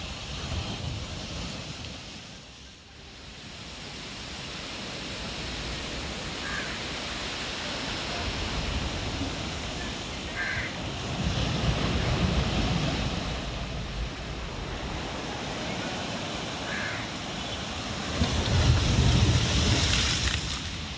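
Strong sea waves pound the shore with a constant broad roar that swells and surges in louder crashes, heard up close with wind noise and faint bird calls.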